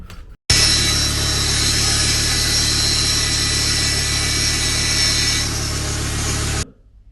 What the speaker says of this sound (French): on a trouvé une technique hein, qui est à base de meuleuse